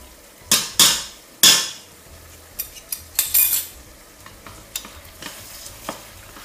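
Tomato paste and pepper fry in a pot for Sfax-style fish couscous broth, with a metal spoon clanking sharply against the pot several times over a soft, steady sizzle.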